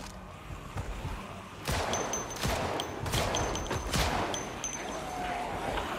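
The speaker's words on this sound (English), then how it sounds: "Shots." Gunfire in the zombie survival video game Project Zomboid: several sharp, loud shots in a quick irregular burst, cracking over a steady noisy backdrop.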